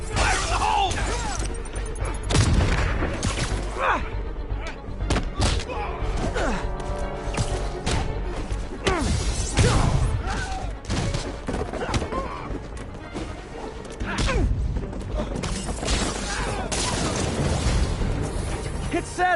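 Dense, loud Spider-Man video game combat with repeated explosions, crashes and bursts of gunfire layered over game music and character voices.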